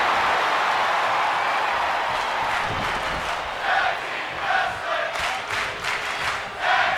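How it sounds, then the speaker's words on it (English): A large arena crowd in the WWE 2K video game, a dense roar that turns into a rhythmic chant of repeated phrases in the second half. "You can hear the crowd saying tag team wrestling"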